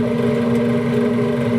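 The auger of a Pit Boss Austin XL pellet grill runs as it feeds pellets, giving a steady, close mechanical motor hum with no breaks over the short stretch.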